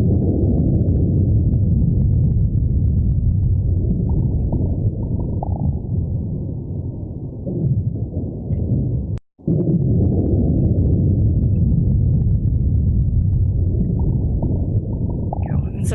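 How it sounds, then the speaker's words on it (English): A sped-up seismic recording of a 2007 earthquake in Japan, heard as a steady, loud low rumble like distant thunder, continuous for the whole stretch apart from one abrupt momentary dropout. "this is actually an earthquake that occurred in Japan in 2007"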